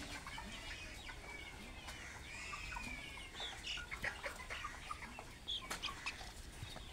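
Chickens cluck and murmur close by, with short repeated calls growing busier toward the end over a faint background hiss.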